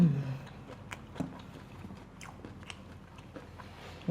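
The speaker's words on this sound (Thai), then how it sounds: "ไหนเรามาลองคำแรกกัน" Close, quiet biting and chewing of crispy fried catfish salad with mango, soft crunches and mouth sounds through a brief pause in speech.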